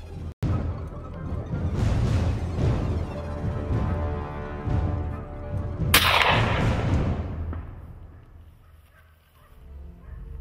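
A single sharp gunshot at a wild boar rings out during a driven hunt in the outdoors, a loud abrupt crack partway through that follows a stretch of steady rustling and background noise.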